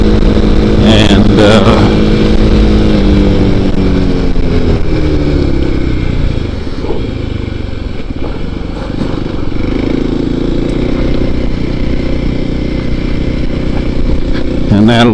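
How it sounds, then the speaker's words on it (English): A Kawasaki KLX 300 dirt bike engine revs loud and close while riding, pitch climbing and dropping through the gears in a continuous buzzing roar. "Trying to keep the RPM in a good range where I'm not lugging it, not over revving it."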